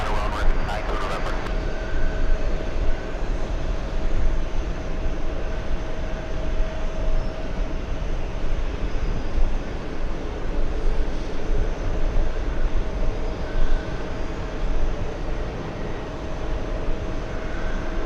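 An airplane at JFK airport rumbles steadily, a loud, continuous roar of jet engines that holds for the whole stretch. A brief clatter comes at the start.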